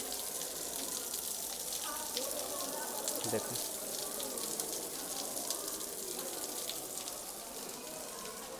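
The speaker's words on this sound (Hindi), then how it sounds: "फव्वारे जैसा पानी गिरता हुआ यहाँ पहाड़ों से गुफा के अंदर" Water pours like a fountain from the rock inside an old cave in the Nashik ghats, a constant splashing rush that stays even throughout, while a person briefly speaks over it.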